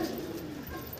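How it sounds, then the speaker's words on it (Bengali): Pigeons coo in a loft whose full flock is up for sale, low throaty burbling calls overlapping steadily and close by, with no voices over them. "সব কটা পায়রা সেল আছে দেখতে পাচ্ছ"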